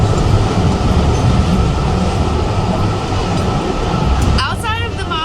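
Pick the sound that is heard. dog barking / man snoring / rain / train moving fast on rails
train moving fast on rails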